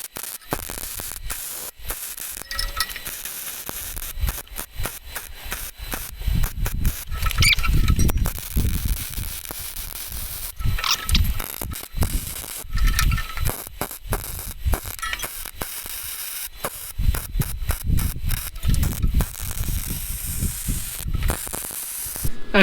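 Welding filling in a trailer chain box, an irregular crackling and sputtering arc with bursts of spatter and short pauses between runs, close and fairly loud.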